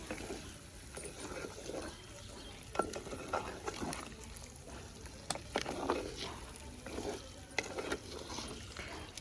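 Masala being stirred into a fish curry in a pan, with faint wet squelching and scraping strokes at an irregular rhythm, close but quiet, over a low bubbling background.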